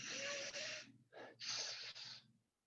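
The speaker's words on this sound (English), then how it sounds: "when you start Ujjayi breathing is creating a sibilant S sound" Ujjayi yoga breathing close to the mic: a long sibilant hissing breath, a short break, then a second drawn-out airy hiss, quiet and alone.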